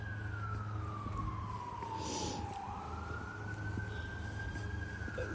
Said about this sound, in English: So what the fuck is going on with the sirens here, dude?